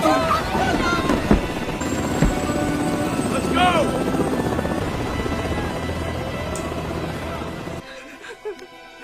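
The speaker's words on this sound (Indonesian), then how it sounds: "Setelah beberapa menit perjalanan, helikopter mereka melewati desa." Helicopter flying over a destroyed village in the war film Tears of the Sun, a steady rotor drone mixed with dense film score and ambient noise, sustained throughout before cutting off abruptly near the end.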